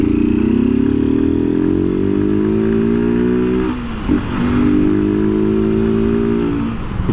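A motorcycle is ridden steadily, its mid-pitched engine droning loud and close, easing off briefly around the middle as the bike turns, then picking back up.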